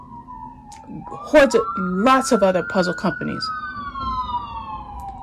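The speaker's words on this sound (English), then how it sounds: "Sorry for that siren, I can't control that." A wailing siren slowly rising and falling in the distance while a person talks close by over it.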